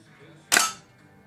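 A single sharp gunshot at a sport shooting range cracks once, close and loud, then decays quickly into a quiet background.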